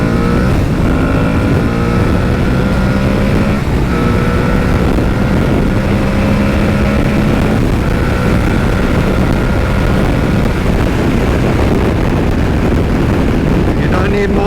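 An Aprilia Tuareg 660 parallel-twin adventure motorcycle accelerates hard from the rider's seat, its engine revving up through gears with rising and stepping tones. Loud and continuous under heavy wind rush.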